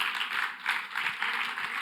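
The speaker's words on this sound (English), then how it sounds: "a big applause for my co-facilitator." A conference audience applauds the co-facilitator after final pitches, a brief burst of many hands clapping in a dense, fluttering rhythm, moderately loud and continuous.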